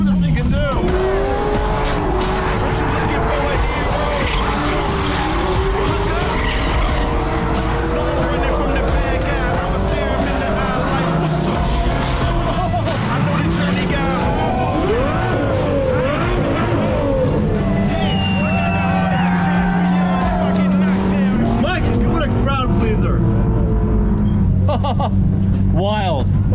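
A race car screams through repeated tire squeals and skids, engine roaring loudly and continuously throughout, with faint voices underneath.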